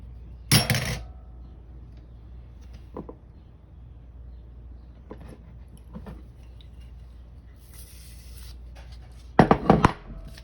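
Tiny hard drive screws drop into a bowl, making a quick cluster of sharp metallic clinks near the start and another near the end, with faint scattered taps in the quiet stretch between.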